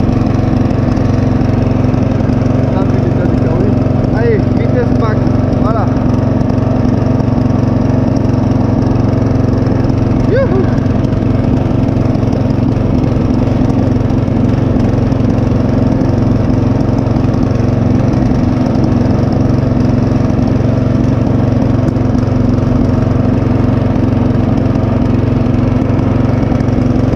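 A lawn tractor engine runs flat out on a cold winter day, a loud, close, unbroken mechanical drone that holds steady for the whole stretch with no talk over it.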